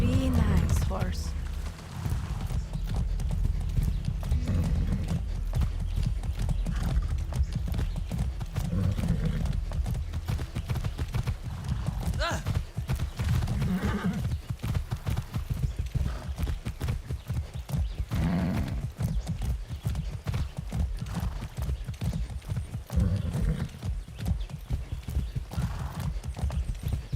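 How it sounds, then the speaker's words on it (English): In the video game Far Cry 6, a horse's hooves clip-clop steadily for nearly half a minute with occasional neighs and whinnies. A voice talks at times over the hoofbeats. "Come on. Be nice, horse."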